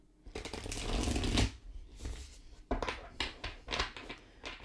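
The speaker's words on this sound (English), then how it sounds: "I'm going to do a riffle shuffle" A tarot card deck is riffle shuffled up close: a long fluttering burst of cards, a short pause, then several quicker riffles and bridging snaps in rapid succession, with no one talking.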